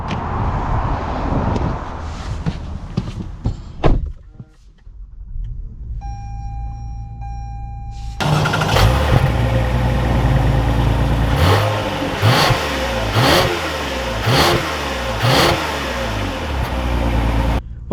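A 2021 Toyota Camry XSE with a V6 engine starts up with a brief whir, settles into a steady idle, then revs and accelerates loudly with a throaty rumble that rises and falls through the gears, close up.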